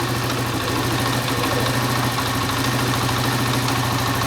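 A motorcycle engine idles steadily after being started with a Bluetooth remote, giving a close, even, continuous rumble with no voices.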